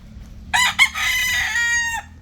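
A six-month-old Boston stag rooster gives one loud, close crow, a short opening burst and then a long drawn-out call.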